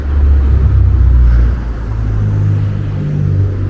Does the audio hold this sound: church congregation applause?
no